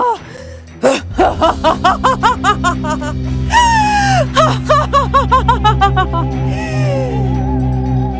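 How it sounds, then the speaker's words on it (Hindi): Anguished, sobbing cries from a woman in a Hindi horror audio drama rise and fall in rapid pulses over a low droning music bed. A long wailing scream stands out near the middle, close and loud. "अधीरा की दर्द भरी चीख के साथ सीने को फाड़ने की आवाज सुनी"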